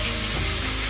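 A brief, dense hiss of beef frying in coconut oil, close and continuous for about a second.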